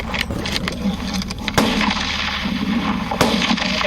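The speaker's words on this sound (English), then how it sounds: "the shots start going off" Gunshots ring out in the field, two sharp broadband cracks standing clearly above a constant rumbling, noisy background.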